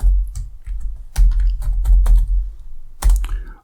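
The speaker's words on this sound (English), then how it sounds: "I'm just going to interactively type this in" Code being typed on a computer keyboard in quick irregular bursts of close, crisp key clicks with brief pauses between runs.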